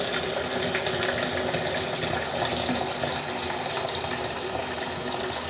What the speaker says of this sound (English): Then I add water.